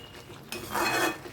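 Mixed vegetables with spinach cooking in a pan, a brief clatter of a utensil against the pan followed by a soft scraping stir, close and fairly quiet.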